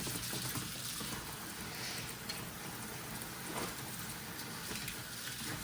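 Water runs steadily over plastic parts from a Polar Lights 1/350 scale K't'Inga model kit during rinsing: a continuous, even hiss of splashing flow with no breaks and no voices.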